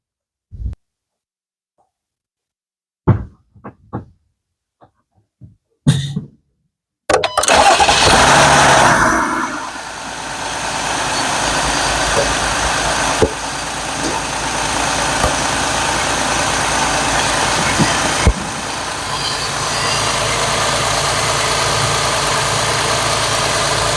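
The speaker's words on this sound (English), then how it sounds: "So I just started the engine, obviously, letting it circulate through." A Jeep 3.6 Pentastar V6 engine, freshly filled with 5W30 synthetic oil, cranks with a few short clicks, then roars to life and settles into a steady, loud idle that continues to the end.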